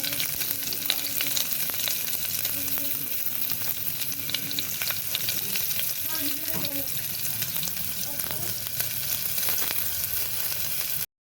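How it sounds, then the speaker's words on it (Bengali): Onions going into a garlic tempering for masoor dal, frying with a dense continuous sizzle and occasional scraping stirs, close and steady throughout until it cuts off abruptly. "এই যে আমি এখন রসুন ফোড়নটা দিয়ে নিলাম এই জন্য এর মধ্যে পেঁয়াজ দিয়ে দিলাম"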